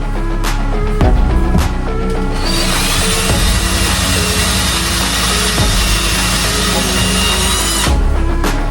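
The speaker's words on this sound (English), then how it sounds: "Let me go ahead and drill a hole." A power drill whirs loudly up close, with a few clicks and bumps before it settles into a sustained high-pitched drilling run into wood, boring a hole to install a magnetic catch.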